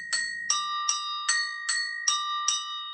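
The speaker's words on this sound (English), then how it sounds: "And you can strike these two bells" A-Star double agogo bells struck with a stick: seven clear, ringing metallic hits at an even pace about every 0.4 seconds, each bright strike decaying into a sustained tone, close and alone.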